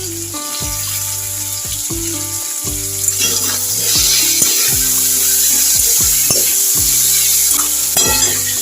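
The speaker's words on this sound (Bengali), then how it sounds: "হালকা লাল লাল করে ভাজা হয়ে যাচ্ছে আলুটা, এরপর দিয়ে দেবো টমেটোটা" Potato pieces fry in a pan until lightly browned, with tomato about to go in; a steady sizzle runs under repeated scraping and clacking stirs, with a low tonal hum running underneath.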